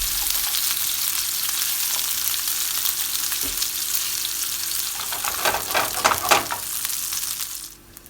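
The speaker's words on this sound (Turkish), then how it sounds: "Aynı tavada kalan yağla şimdi de köftelerimizi kızartıyoruz." Steady, dense sizzling of meatballs frying in hot oil in a pan, with a brief burst of stirring and crackling near the end before it fades.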